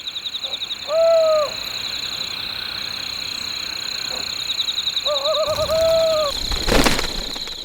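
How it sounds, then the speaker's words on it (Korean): A pair of Ural owls calls at night in a mountain forest: two short, clear hoots with a wavering quality, separated by a few seconds, over a steady background of insects. "밤이 되자 함께 모습을 드러낸 긴 점박이 올빼미 부부."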